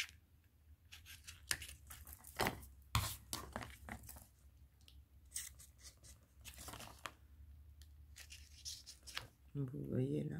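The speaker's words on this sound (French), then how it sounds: "un coup de cutter suffit quand le cutter taille bien" A cutter knife slices through paper in short, sharp scraping strokes, a series of quick cuts and rustles spread unevenly across the clip, with a voice talking faintly underneath.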